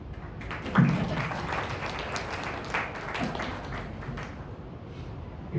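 An audience at a Hindi poetry gathering applauding a recital, scattered clapping that swells briefly and then settles into thinner, steady applause.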